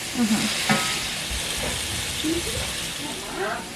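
Green beans sauteing lightly in a little olive oil with lemon pepper seasoning, a steady close sizzle and hiss with occasional stirring scrapes.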